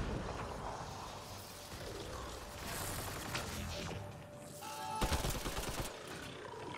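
Dense bursts of gunfire from a Mass Effect Andromeda firefight, rapid and continuous with a sharp crash near the end, loud and close throughout.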